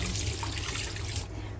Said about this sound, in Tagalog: Hugasan po natin maigi ang bagoong para po matanggal yung alat.